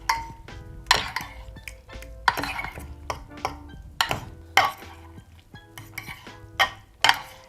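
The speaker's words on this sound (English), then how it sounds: "And just keep mixing." Pasta being mixed into a feta sauce in a pot or baking dish, with repeated clinks and scrapes of a utensil against the dish, irregular stirring strokes close by, and no voices.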